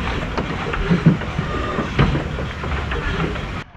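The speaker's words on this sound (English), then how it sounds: "And the steam engine's going." A steam engine at an outdoor show running with a rhythmic chuffing and mechanical clatter, irregular thumps and clicks over a steady rumble, fairly close and loud with no talk.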